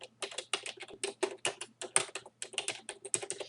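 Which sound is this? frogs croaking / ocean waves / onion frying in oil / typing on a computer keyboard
typing on a computer keyboard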